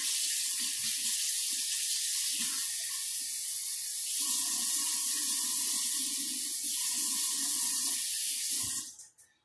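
Cold tap water runs in a steady hissing stream into a measuring cup, its pitch shifting as it fills, then cuts off abruptly at the end.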